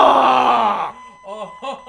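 Animatronic breathing from the video game Five Nights at Freddy's 4: a loud, close groaning breath lasting about a second, then two shorter raspy breathy pulses that follow it.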